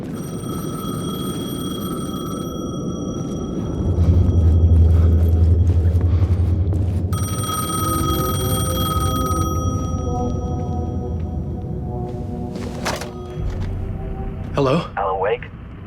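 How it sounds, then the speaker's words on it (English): A payphone rings in Alan Wake 2, repeated metallic bell tones sounding in bursts over a low ambient drone, with someone speaking over part of it and a deep rumble swelling midway. "The payphone was ringing."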